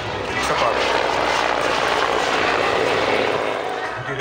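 An Mi-24 attack helicopter passes at an airshow, its deep rotor and turbine roar loud and continuous, swelling slightly then easing, with a commentator's voice beneath the engine noise.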